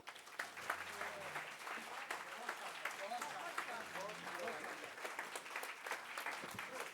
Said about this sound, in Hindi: मुझे लगता है इन ऊर्जावान तालियों सहित शिव सर के लिए एक स्टैंडिंग ओवेशन हो जाए।